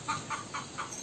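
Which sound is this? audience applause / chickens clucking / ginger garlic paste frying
chickens clucking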